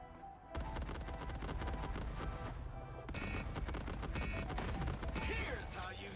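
Dense bursts of gunfire in the video game Cloudpunk, loud and rapid, layered with game sound effects and voices throughout.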